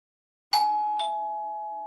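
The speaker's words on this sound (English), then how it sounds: "I rang the bell on the stick house." A doorbell on a house rings with a two-tone ding-dong, the first chime struck and then the second, with the tones ringing on and slowly fading.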